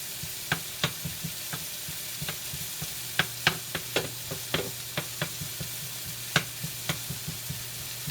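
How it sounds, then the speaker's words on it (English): Thinly chopped garlic sweating in butter in a pan, a soft steady sizzle under repeated light knocks and scrapes of stirring, close up, with no voices. "And in goes my thinly chopped garlic. We're just going to sweat that off in the butter here as well."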